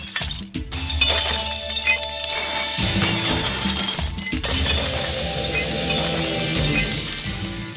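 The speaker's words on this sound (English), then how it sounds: "right there we have a glass machine" A glass recycling machine at a recycling facility crushing bottles, a loud, continuous clatter of shattering and clinking glass over a low mechanical rumble, with brief heavier crashes and no talk.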